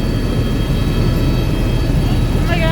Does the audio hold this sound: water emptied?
no